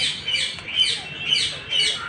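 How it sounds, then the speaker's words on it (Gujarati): A green-cheeked conure parrot at Kankaria Lake in Ahmedabad gives four sharp, high chirping calls at a steady pace, fairly close and clear. "આ છે ગ્રીન ચીક કુનર"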